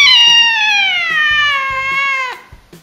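A cat gives one long, loud, drawn-out meow that slowly falls in pitch and cuts off sharply, followed by a few soft clicks, with no talking.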